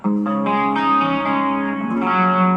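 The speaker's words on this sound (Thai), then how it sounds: "แบงค์ที่หนึ่งนะครับเสียงที่หนึ่งเป็นเสียงคลีนคอรั" An electric guitar played through a Korg AX3000G multi-effects unit on a clean chorus setting rings out in shimmering sustained chords, close and clear, with no talking.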